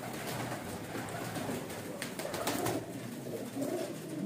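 Soft, low cooing of teddy pigeons blends into a steady background murmur, with a few brief bird calls rising above it.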